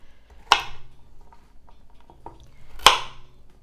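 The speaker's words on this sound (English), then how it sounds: "I'm gonna cut my carrots into about 1-inch pieces" A knife cuts carrots into roughly 1-inch pieces on a board, giving two sharp, clear chops about two seconds apart with faint, soft knocks and taps between them.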